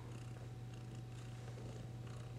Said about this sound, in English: He's purring right now.